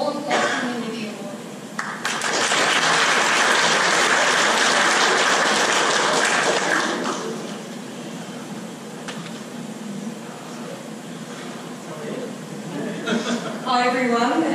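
Loud sustained applause from an audience of colleagues at a Coburg Primary Grade 6 graduation, building quickly and fading after several seconds into crowd murmur and a few scattered claps.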